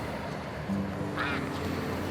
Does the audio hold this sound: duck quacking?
yes